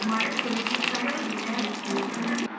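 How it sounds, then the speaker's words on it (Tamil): Hot tempering poured into Tirunelveli paruppu kulambu, a lentil and tamarind curry, giving a steady close sizzle and bubbling hiss that holds for a couple of seconds before cutting off. "குழம்பு தாளித்தாச்சு, ஊற்றிக்கலாம்."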